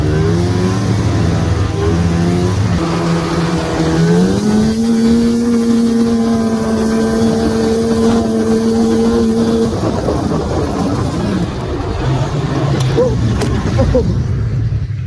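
A cheap old snowmobile engine runs loud and close while someone rides it. Its drone climbs in steps as the revs rise, holds steady, then drops and wavers.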